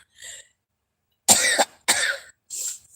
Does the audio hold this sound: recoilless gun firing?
no